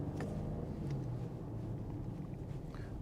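2025 Audi Q8 facelift with a 3-liter V6 petrol engine accelerating, a low steady engine rumble heard from inside the cabin, mixed with road and wind noise, constant and fairly muted throughout.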